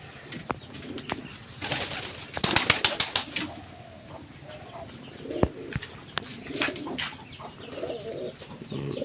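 Pigeons at a pigeon farm coo in low, throaty murmurs, with sharp wing flaps and clattering bursts breaking in now and then close by.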